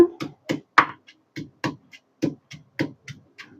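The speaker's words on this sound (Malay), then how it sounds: "Sambil-sambil tu kita tumbuk" Steady rhythmic pounding of ingredients in a mortar, about a dozen dull thuds at a regular pace, close and fairly loud, with no talking.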